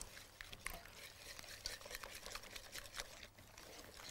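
Egg yolks are whisked in a bowl for a castella cake, giving faint, rapid clicking and scraping strokes in an irregular, continuous rhythm.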